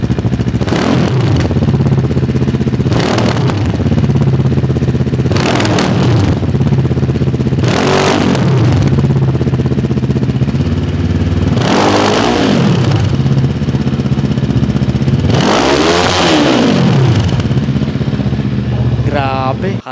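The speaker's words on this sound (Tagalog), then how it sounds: "Stock muffler lang yan. Rev natin." A Bristol Bobber 700 motorcycle on its stock muffler revs hard in five or six loud, close bursts, each rising and falling back to a rumbling idle between throttle blips.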